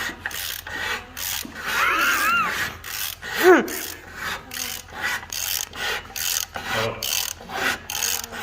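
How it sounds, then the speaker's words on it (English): Metal being reamed by hand during teardown of a 225 engine, a close, repetitive rasping scrape in steady strokes with brief pauses between them. "Make sure that it's a fresh surface before you ream off all the crud."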